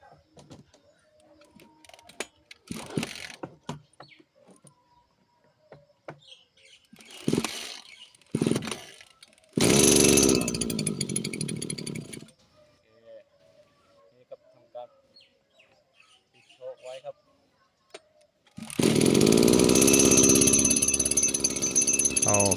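A small gasoline engine on a 767 sprayer is pull-started: a few short sputtering pulls, then it catches and runs loud and raspy twice, with quiet talk between bursts.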